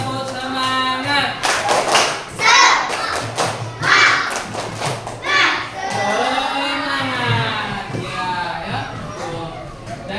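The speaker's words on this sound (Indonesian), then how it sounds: "Coba kita tepuk semangat dulu. 1, 2, 3, tepuk semangat." A group of children in a classroom does a rhythmic spirit clap, several bursts of claps mixed with shouting and chanting voices, with an adult talking over it, close and lively.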